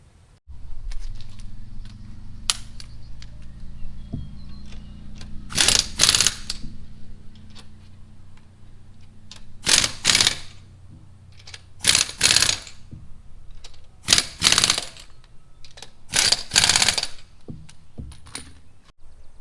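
Wheel lug nuts on a Camaro being tightened with a hand tool after fitting new wheels, with repeated ratcheting clicks in short bursts and pauses, close and fairly clear against quiet garage ambience.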